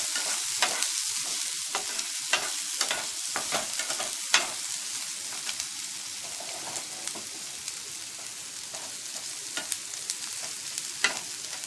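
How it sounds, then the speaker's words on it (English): Ingredients for potato egg fried rice sauté in a hot pan, a steady close sizzle broken by repeated scraping stirs of a spatula, with no talking. "Saute this just for a few seconds."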